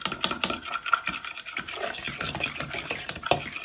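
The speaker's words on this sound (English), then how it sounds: "we'll give it a good whisk." Meatloaf mixture being whisked in a bowl, an irregular series of close, scraping and rubbing strokes with short pauses between bursts, no voices.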